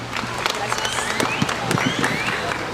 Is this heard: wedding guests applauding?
yes